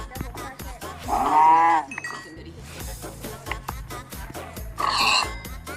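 Sheep bleat twice in Minecraft Pocket Edition, with short wavering cries standing out over a busy game soundtrack of clicks and footsteps, and a voice talking intermittently around them.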